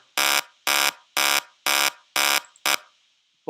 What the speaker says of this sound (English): the beeping sound stays the same